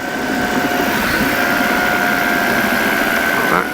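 A Sub70 flexwing microlight's engine drones loud and steady at full power during stall recovery in flight, a constant close roar with no pauses.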